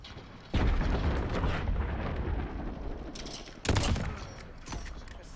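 Precision airstrike explosions hit in the shooter Modern Warfare: two heavy, close booms a few seconds apart, each with a long rumbling tail, and a smaller blast near the end.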